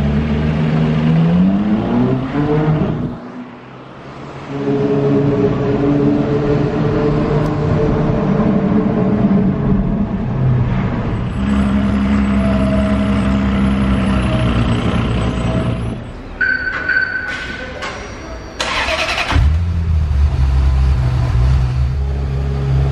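A Ferrari LaFerrari Aperta's engine roars loud and close, rising and falling through revs with a deep sustained growl, a short dip near the start and sharp blips toward the end.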